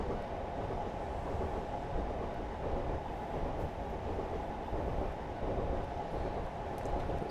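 A train in a simulator game climbs a slope under throttle, a steady, dense rumble of running wheels and engine that holds level throughout with faint rhythmic rail clatter, alone.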